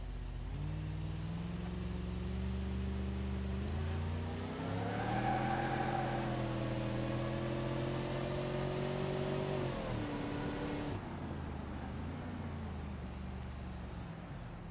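A Crown Vic's engine in BeamNG.Drive revs up steadily, pitch climbing then holding before a gear shift and a drop-off, loud and up close with no talking.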